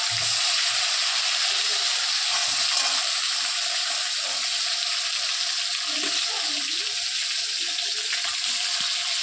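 Marinated chicken pieces for biryani frying in a pan, a steady broad hiss and sizzle running without a break, fairly close and even in level, with no voices over it.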